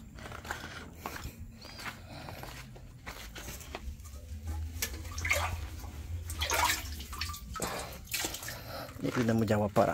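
Water is poured and splashes from a freshly opened well for dogs to drink, after a street flood, with irregular sloshing and trickling while a person talks throughout.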